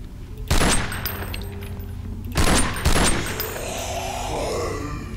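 Video game weapon fire in bursts: a loud close volley, a pause, then two more heavy bursts, followed by lower rumbling game noise.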